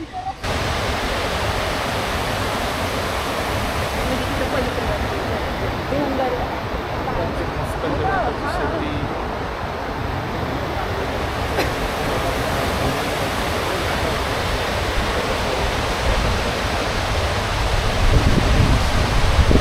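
Loud, steady roar of water gushing through open automatic dam gates in the Western Ghats near Bhor, Maharashtra, continuous and close with a little wind buffeting the microphone.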